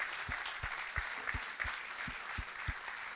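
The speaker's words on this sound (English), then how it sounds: "Also, I would like to have an applause for my assistants, Christopher and Akim." Steady applause from a crowd, a dense wash of clapping with a few sharper claps standing out, continuing throughout.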